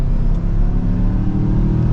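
A 2023 Mazda CX-5 Signature Turbo AWD with a 2.5-liter turbocharged four-cylinder accelerates, a steady loud engine drone with low rumble heard from inside the cabin.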